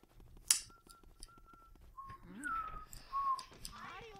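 Bright, cheerful whistled tune rising and falling over game chimes and effects, a sharp high ping near the start, in the video game Luigi's Mansion.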